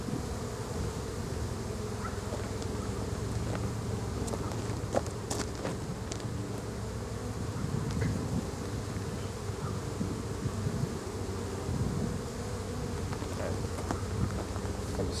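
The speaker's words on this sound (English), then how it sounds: "I smashed a bunch of bees" Honeybees swarming around an opened hive during an overdue inspection, a dense continuous buzz with individual bees droning close past, plus occasional clicks and handling noises.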